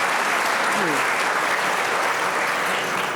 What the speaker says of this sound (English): how about a round of applause for these phenomenal CEOs